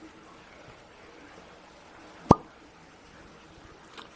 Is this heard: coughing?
no